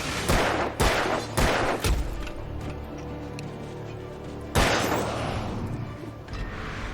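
Gunshots ring out in the video game Alan Wake, several sharp loud blasts in quick succession at the start, then a lone shot partway through, with quieter ambient rumble between them.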